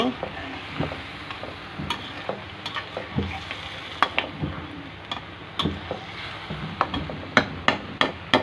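Hilsa fish head and raw banana sautéing in a pan, with a steady sizzle under repeated sharp scrapes and taps of a spatula stirring through the pieces, close and moderately loud.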